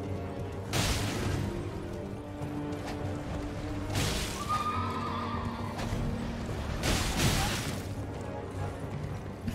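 A horse neighs and whinnies in Elden Ring, with loud repeated bursts over a rumbling game soundscape, hoof clops and occasional crashes, and no speech.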